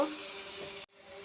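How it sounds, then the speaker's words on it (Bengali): Chopped onions fry in hot oil with bay leaf, dried red chilli and whole cumin, giving a steady broadband sizzle that stops abruptly near the end and then resumes more faintly. "পেঁয়াজটা ভাজা ভাজা করে নেব"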